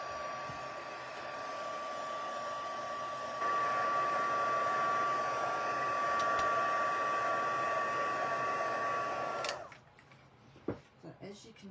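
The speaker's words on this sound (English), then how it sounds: "I'm putting the heat gun onto it" A heat gun drying ink on a card blows a steady loud whine with a high tone for about nine seconds, then cuts off, leaving a few light handling taps.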